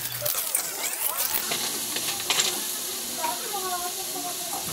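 Ginataang pipipit (snails in coconut milk) sizzles steadily in a hot pot while a spoon scrapes and stirs, with a voice speaking faintly over it.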